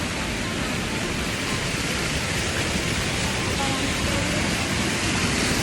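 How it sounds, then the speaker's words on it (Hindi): Continuous broadband rush of a waterfall at its source near Nainital, loud and close, a steady hiss of falling water with no letup. "ये झरना यहाँ से शुरू होता है"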